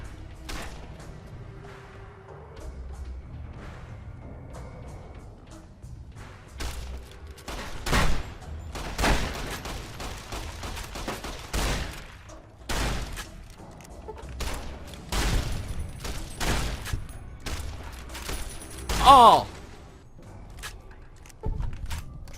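Gunfire in Fallout New Vegas: repeated sharp shots and rapid volleys of varying loudness, some close and heavy, scattered across a tense combat stretch with brief gaps between bursts.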